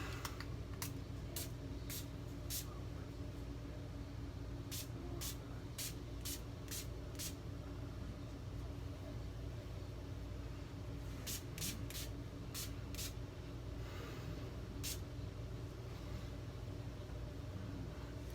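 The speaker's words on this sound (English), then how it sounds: "I've put it in this little atomizer that says Crowgen, and we're going to squirt it on the dome" Old Spice sprayed from a small atomizer onto a bald head, a series of short, crisp hissing spritzes in quick bursts with pauses between, faint over a low background hum.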